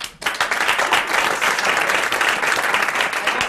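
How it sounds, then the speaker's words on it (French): A studio audience bursts into loud, sustained applause, dense and even clapping that fills the room for several seconds without pause. "Applaudissements"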